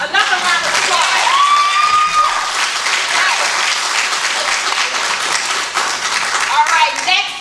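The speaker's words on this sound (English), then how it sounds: "So yes, another round of applause." Audience at a spoken word poetry competition bursts into loud, steady applause with clapping lasting throughout, a few scattered cheers and voices mixed in.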